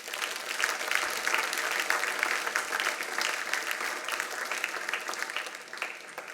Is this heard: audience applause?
yes